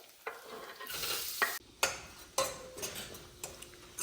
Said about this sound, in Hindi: अब इसमें डाल देता हूँ प्याज।